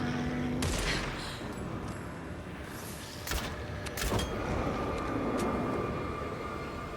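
Gunfire in Alan Wake II, a few sharp, sudden shots standing out from a tense, droning background with no talking.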